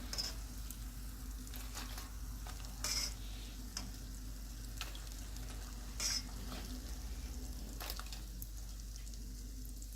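Papdi dough pieces fry in hot oil, turning golden. The sizzle is soft and steady, with a few brief, slightly louder bursts of bubbling or stirring.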